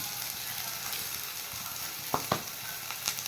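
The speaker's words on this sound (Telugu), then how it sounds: "దాంట్లో ఉల్లిపాయలు వేసి వేపుతున్నారు మరి కలర్ వచ్చే వరకు" Onions sizzle steadily in very hot oil for a chicken curry with fenugreek leaves, a continuous close frying hiss with a few sharp pops.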